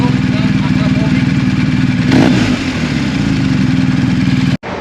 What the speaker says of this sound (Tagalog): Yan po ang turok ng Akrapovic.